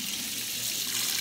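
Tap water runs steadily into a sink as a tooth whitening tray is rinsed beneath it, a continuous close hiss and splash with no pauses.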